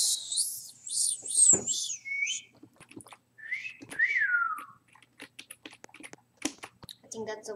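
A person whistles a series of high, sliding, wavering tones during a Mario game session, in short separate phrases with quiet gaps between them and faint clicks of keys underneath.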